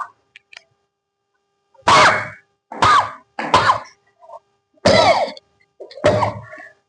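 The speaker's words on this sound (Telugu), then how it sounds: "ఆ గొంతు టచ్ అయినప్పుడు కాఫ్ వస్తుంది" Coughing and throat clearing set off during neti nasal cleansing come as five forceful, close bursts separated by short silences.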